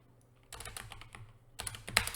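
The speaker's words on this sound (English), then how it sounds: "Having trouble typing that." Keys clatter on a computer keyboard in quick, uneven bursts, close and fairly quiet, with a pause in the middle before a denser flurry of typing; no one speaks.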